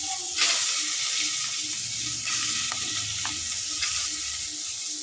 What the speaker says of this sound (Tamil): வெங்காயம் ஃபுல்லாக போட்டாச்சு. அது நல்லா பொன்னிறம் வரைக்கும், அதாவது கோல்டன் ரவுன் வர வரைக்கும் வறுத்துடலாம்.